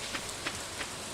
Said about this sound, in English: Right, it's raining, so we don't need to water anything today. Look at this, beautiful rain.